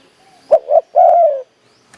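A spotted dove gives a short soft coo phrase, two quick notes followed by a longer drawn-out coo, nearby in a quiet setting.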